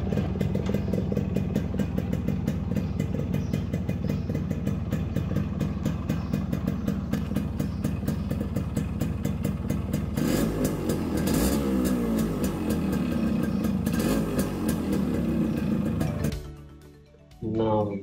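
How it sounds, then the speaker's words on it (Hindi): A restored original 1986 Yamaha RX100 two-stroke motorcycle running close by, with a loud, rattly, pulsing idle and a burst of revving near the end before it drops suddenly and catches again. "चलो नाउ लेट्स स्टार्ट बाइक, और इसकी आप आवाज़ सुनो, the original Yamaha RX 100 1986 model"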